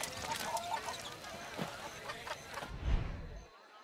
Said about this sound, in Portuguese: tá rolando rinha de galos aqui.